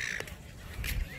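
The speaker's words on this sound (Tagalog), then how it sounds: "Maraming ibon na lumilipad." A couple of harsh bird calls ring out against quiet seaside outdoor background noise in Western Australia, one early and one near the end.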